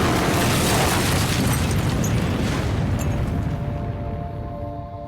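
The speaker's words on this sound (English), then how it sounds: "there was a massive train explosion in northern North Korea." A massive explosion erupts with a loud, broad rumbling boom right from the start that slowly fades over several seconds, standing alone without talking.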